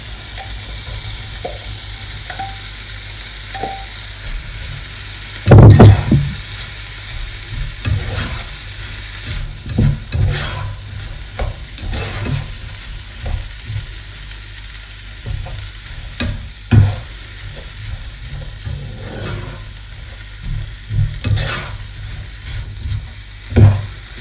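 Chopped pepper and cauliflower rice are stir-fried in a hot pan, a bed of sizzling hiss punctuated by repeated loud scrapes and clunks of the utensil against the pan at an irregular rhythm.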